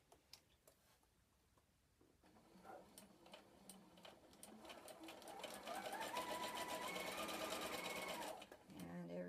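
A Singer Modern Quilter sewing machine stitching scrap fabric, its rapid mechanical ticking starting slowly, then building into a fast, steady whir before stopping abruptly; a voice speaks softly early on.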